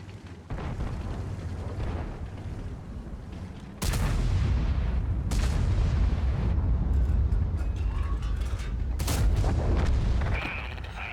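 Tank gunfire and explosions in World of Tanks, with several sharp booming shots spaced apart over continuous rumbling battle noise, loud and close.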